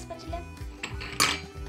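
Toy spatula clinking against toy plastic pots and pans, a few light taps and a sharper clack near the end, close up.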